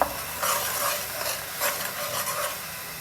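Ground spices such as coriander and chili sizzle in a pan for a small river fish curry, a bright hissing sizzle with rhythmic stirring scrapes rising and falling, close and continuous.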